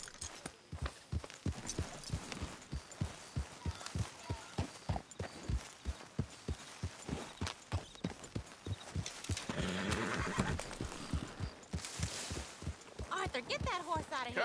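Horse in Red Dead Redemption 2 whinnying and snorting amid steady clip-clop of hooves, repeated rhythmic footfalls close up, with voices talking over parts of it.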